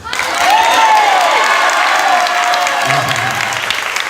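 A church congregation at a Hindi-language service claps steadily for about four seconds, with a whooping cheer rising over the applause early on.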